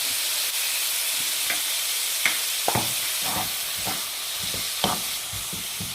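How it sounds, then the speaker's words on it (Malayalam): Small onions, a medium onion, tomato and green chillies sautéing in coconut oil, a loud steady hiss of frying with repeated clacking stirs of a spoon in the pan. "ഇപ്പം 2 ടേബിൾ സ്പൂൺ വെളിച്ചെണ്ണ ഒഴിച്ചതിൽ ചെറിയുള്ളി, ഒരു മീഡിയം സവാളയും, ഒരു തക്കാളിയും, 5-6 പച്ചമുളകും കൂടെ വഴറ്റുകയാണ്"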